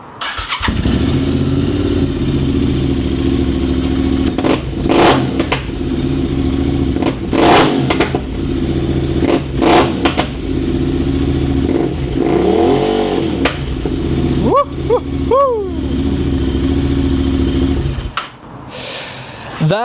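A Royal Enfield 650 motorcycle with an aftermarket exhaust idles with a loud, rough exhaust note, blipped in several sharp revs, then cuts off near the end.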